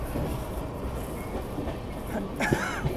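Purushottam Express rolling on the rails toward Ghaziabad, a steady broadband rumble of wheels and carriage noise with a brief louder clatter near the end, heard from inside the moving train.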